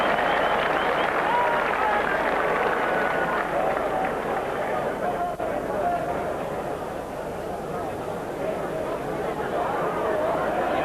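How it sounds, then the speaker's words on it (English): Crowd applauding at a 1980 bowls finals day, sustained clapping mixed with chatter and a commentator's voice running over it throughout. "Applause from the crowd"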